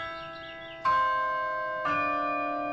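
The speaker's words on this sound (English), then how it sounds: "The bells, they just have such a sonorous, like bright tone." Campus carillon bells ring out in two strong bright strikes about a second apart, each leaving a long, sonorous ringing tone that hangs in the air.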